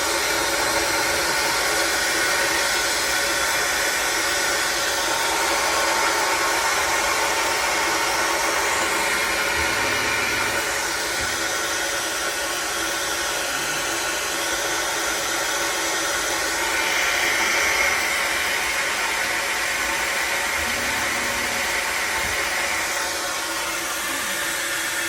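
A Tesari-type pump on a DIY vapor blaster runs continuously with a steady, loud broadband whooshing roar that stays even throughout, with no talk.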